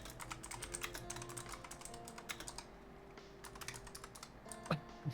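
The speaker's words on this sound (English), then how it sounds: "I can hear that furious typing." Rapid, furious typing on a computer keyboard during a game of Two Point Campus: dense clattering keystrokes run continuously, easing briefly midway, then a few sharper clicks near the end, with no voices.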